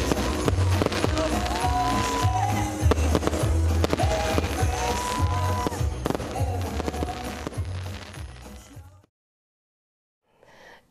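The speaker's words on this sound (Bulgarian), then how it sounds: "Красиви фойерверки озариха централния площад" Fireworks burst over a central town square at the start of Christmas and New Year celebrations: dense, continuous cracking and booming with whistles, then an abrupt cut to near silence with a faint trailing crackle.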